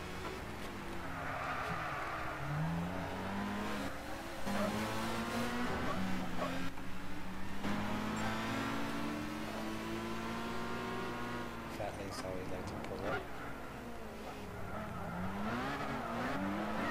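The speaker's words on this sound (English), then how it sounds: "Mustang sounds" A Ford Mustang engine in the video game Gran Turismo 6 during a street meet and drag session, droning and revving through gear changes in steady rising and falling sweeps, with tire squeal and a voice talking underneath.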